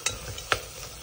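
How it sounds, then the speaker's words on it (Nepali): Soya chunks fry in a pan with a soft sizzle and two quick scraping stirs, close up and brief. "अनि यसलाई एकछिन भुट्ने ल"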